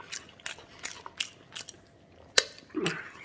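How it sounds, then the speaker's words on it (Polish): Close lip smacking while chewing Silesian-style food, a series of sharp wet clicks spaced roughly evenly over a quiet background hiss, one louder smack near the end. "Śmieszne może być moje mlaskanie, ale w ten sposób pobudzę swoje kubki smaczne."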